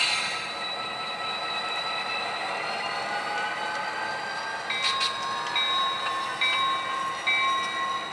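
A model train rumbles steadily along its track, with thin metallic squeals and clicks from the wheels and no talking.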